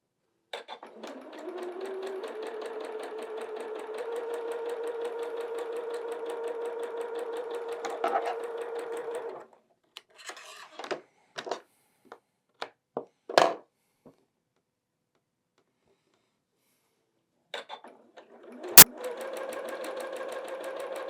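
A sewing machine stitching quilt block pieces hums in a long steady run, stops for scattered clicks and handling knocks, then starts stitching again.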